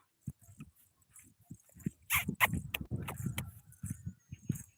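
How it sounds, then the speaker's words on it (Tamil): A small dog yips and whimpers in short, scattered bursts, with a jangling rattle and light movement noise around it. "நாய்க்குட்டி ஓடு"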